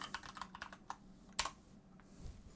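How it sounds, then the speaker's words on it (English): Someone types a chat message on a computer keyboard, a quick run of close, crisp key clicks with short pauses and one sharper tap in the middle. "So now if I just type a message, so hi Joe, are you there?"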